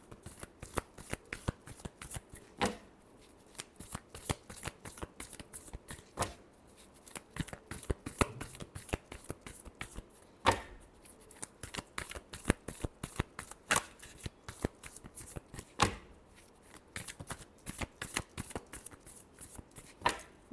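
Tarot cards are shuffled again and again, soft riffling and slapping bursts in an irregular rhythm, quiet and close with no talk over them.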